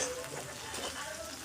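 Chopped green chilli, ginger and garlic frying in a pan, a steady close sizzle with faint stirring scrapes throughout.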